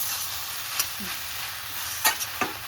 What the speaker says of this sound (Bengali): এই দেখুন, একটু ভালোভাবে নেড়ে চেড়ে নিচ্ছি, একটু ভালো ভালো করে নিচ্ছি